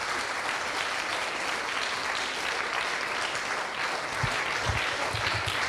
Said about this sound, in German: Auch da mal ein großer Applaus